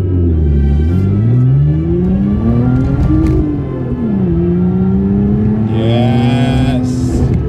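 A Lotus Evora's naturally aspirated 2GR-FE engine revs hard to redline, its pitch climbing steadily toward a high scream, dipping briefly between pulls, loud and close with no talking.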